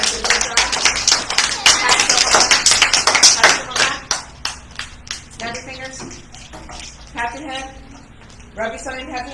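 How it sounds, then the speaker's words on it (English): A room of children claps together in a burst of dense, close applause that thins into scattered claps, with a voice chattering in the later seconds. "Everybody, give yourself a round of applause."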